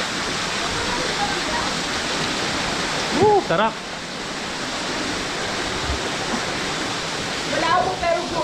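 Steady broadband rush of a waterfall at a lagoon on Mt. Nalayag in Balibago, Lobo, Batangas, loud and constant, with brief voices exclaiming over it.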